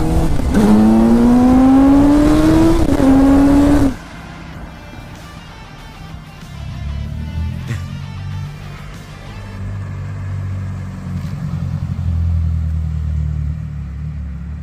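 A Toyota Celica pulls away after being sold in Poland, a low engine rumble that swells and fades as the car drives off, following a stretch of loud, whining talk at the start.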